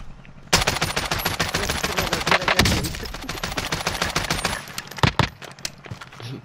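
Sustained rapid automatic gunfire in Call of Duty: Warzone, loud and dense, with a few sharper isolated shots near the end.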